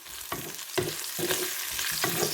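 Eggplant pieces salted and frying in a pan for a brinjal curry, stirred in a few loud scraping strokes over a steady close sizzle, with no talking.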